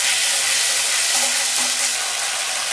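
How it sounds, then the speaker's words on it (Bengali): Ginger and cumin paste sizzles in hot oil with bay leaf and peppercorns, a continuous close, bright frying hiss with no talk. "তার মধ্যে দিয়ে দিচ্ছি আদা বাটা আর জিরে বাটা, দিয়ে এটাকে ভালোভাবে কষিয়ে নেব।"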